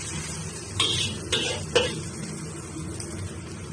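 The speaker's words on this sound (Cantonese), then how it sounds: "啲冬菇係冇咁容易煎。" Shiitake mushrooms frying in a pan for beef, mushroom and vegetable soup noodles, with a steady low sizzle and a few sharp scrapes and clinks of a utensil stirring against the pan.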